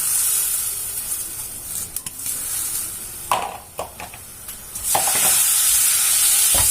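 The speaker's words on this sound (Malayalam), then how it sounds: "എന്നിട്ട് നമുക്കിത് നല്ലോണം തവയിലിട്ട് ഫ്രൈ ചെയ്തെടുക്കാമേ" Washed rice sizzles steadily as it fries on a hot tawa, with a few louder scraping, stirring bursts in the middle and no voices over it.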